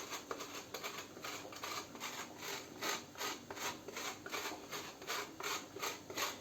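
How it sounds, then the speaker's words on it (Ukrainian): Frozen chocolate dough is grated by hand over an apple soufflé cake, giving close, quiet rasping strokes that repeat at a steady rhythm of roughly two per second, with no one speaking. "натираємо сюди зверху шоколадне тісто"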